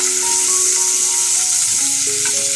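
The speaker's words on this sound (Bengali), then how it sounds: "খুব কম তেলে ভেজে নিচ্ছি আর কম তেলে রান্নাটা করে নেবো" Winter vegetables fry in a small amount of oil with a dense, even hiss that holds steady throughout, and faint tonal hums sit beneath the sizzle.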